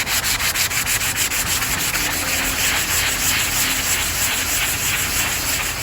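Pre-cut wooden table legs being sanded, a loud, steady abrasive rubbing with a fast rhythmic pulse, close up and continuous with no talk.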